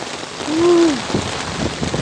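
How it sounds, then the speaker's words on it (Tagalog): Heavy rain in Pampanga pours steadily with a dense, broad hiss, and a brief tonal whine rises and fades partway through. "Malakas po ang ulan dito sa Pampanga."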